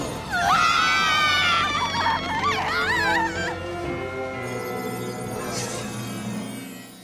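A crowd of cartoon ponies screams in a loud, wavering high chorus, rising and falling for several seconds before fading into a lower, sustained wail.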